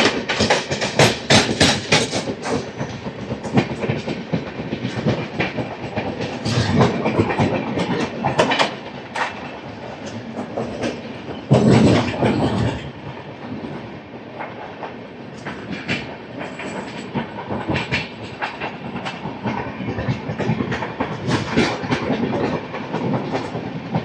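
Clickety-clack and rumble of the Howrah Mail, train 12840 running from MGR Chennai Central to Howrah, heard from onboard: continuous loud wheel rattle and rail hiss with rhythmic clanks and bursts of louder noise.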